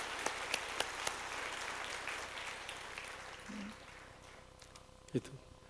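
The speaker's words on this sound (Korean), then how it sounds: "뜨거운 박수로 환영하십시다" A church congregation applauds to welcome newcomers with a steady wash of clapping that fades out midway, a few sharper claps standing out early on.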